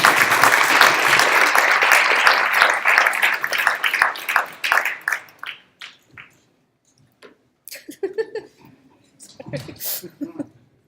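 An audience at a talk on disability and universal design welcoming Haben Girma with loud, dense applause that fades over several seconds, followed by scattered mouth clicks and a few voices.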